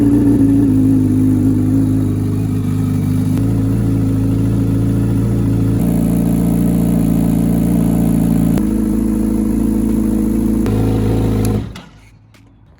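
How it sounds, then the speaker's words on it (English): A 2019 Honda CBR1000RR sportbike engine running loud and close, a steady revving drone with a few throttle shifts, cutting off abruptly near the end. "let's flick this lever and fire this bike up one last time"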